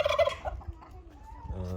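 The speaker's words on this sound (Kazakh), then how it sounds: "Енді бізде осы жаңалық пока австралог атиші келді" An Australorp rooster calls in a run of loud, warbling cries up close, dips briefly, then starts up again at the end.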